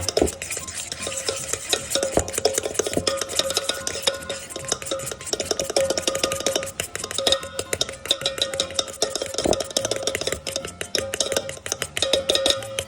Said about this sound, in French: mon pecorino et je vais bien mélanger très longtemps jusqu'à ce que j'obtienne une belle pâte